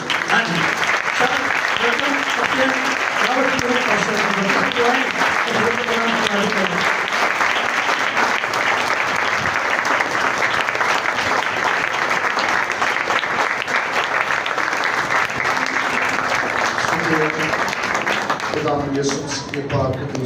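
A congregation claps with raised hands at a Sunday morning prayer festival service, sustained loud rhythmic applause filling the hall for about twenty seconds, with a voice talking over it and music tones underneath.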